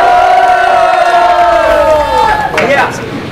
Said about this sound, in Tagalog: Lahat mag-ingay para OG Design